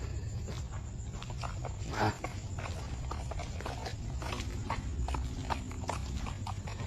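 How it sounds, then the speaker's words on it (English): Horse hooves clip-clop steadily along a street in Santa Cruz at night, a continuous walking rhythm of fairly close hoof strikes over a low background rumble. "Un caballo escucho por aquí."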